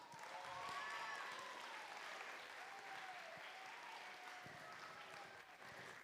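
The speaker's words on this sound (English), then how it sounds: "Let's welcome all of the students we have competing today with a round of" Steady applause welcomes the competing students at an FTC robotics league tournament, a full crowd clapping evenly for several seconds at moderate distance, with faint tonal background sounds underneath.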